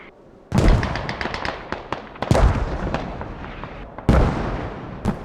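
Mortar rounds fire and land in the Squad military video game. Three heavy booms arrive about two seconds apart, each followed by a crackling tail and scattered smaller pops.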